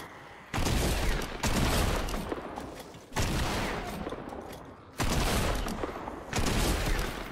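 Shotgun blasts in Fortnite Save the World, five heavy booming shots spaced about a second or two apart, each with a long rolling decay, loud and close with no talk.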